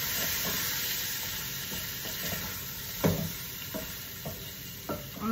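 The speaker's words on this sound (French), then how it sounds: "Je vais remuer." A spoon stirring a thickening flour-dusted sauce for a lamb stew with potato, carrot and tomato in a saucepan: soft scrapes and knocks against the pan come every second or so over a gentle, steady sizzle, close and fairly quiet.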